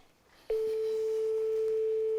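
A steady telephone line tone sounds loud and alone, starting abruptly after a brief quiet moment and holding unbroken for nearly two seconds, heard during morning phone sales calls for a rainwater recovery company.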